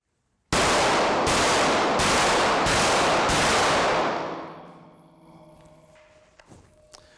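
Four loud handgun shots ring out in quick, even succession from a shooter firing while moving, close and sharp, followed by a fading echo and faint rustling.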